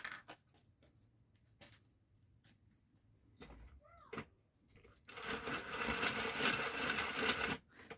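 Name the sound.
22-pin circular knitting machine running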